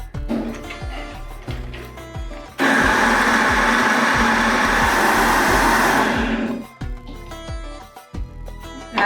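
Electric kitchen grinder blending soaked chana dal and toor dal with garlic, ginger and salt into adai batter, a loud steady motor whir for several seconds between quieter clattering start-up and slowing-down sounds.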